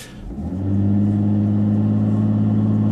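A 2015 Volvo V60 T6 in sport mode launches hard from a standstill, its engine swelling within half a second into a loud, steady, full-throated roar that holds close and strong throughout.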